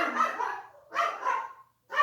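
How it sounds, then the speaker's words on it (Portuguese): A pet dog at home barks in a few separate bursts, fairly close, with short pauses between them and no talk over it. "Ouviram meu cachorro?"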